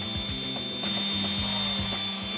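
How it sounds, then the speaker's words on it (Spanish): Wooden dowel pieces being sanded along their edges for a homemade makeup vanity, giving short rhythmic rubbing strokes close by over a steady high background tone. "vamos a lijar los bordes para que estén todos los bordes"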